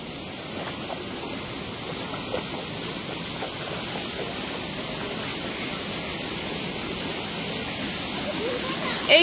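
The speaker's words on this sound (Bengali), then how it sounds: "এইখান দিয়ে কিন্তু ঝর্ণাটা নামছে," A waterfall at Belpahari rushes with a steady broadband roar that stays even and close for the whole stretch, with faint voices barely showing beneath it.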